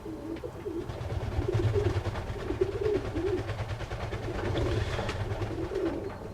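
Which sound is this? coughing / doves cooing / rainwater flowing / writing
doves cooing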